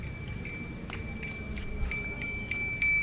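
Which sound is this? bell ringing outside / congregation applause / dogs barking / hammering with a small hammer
bell ringing outside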